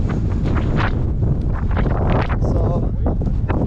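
Strong, steady wind on a cloudy mountain summit near Thirlmere buffets the microphone with a constant low roar, gusting throughout with a few faint rustles.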